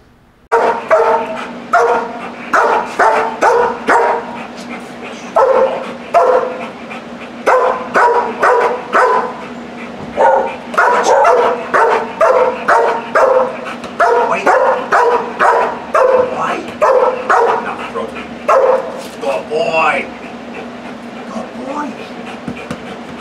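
A protection dog barks at a stranger in a public place, loud and close, in long rapid volleys of sharp barks separated by brief pauses, with a faint voice in the background.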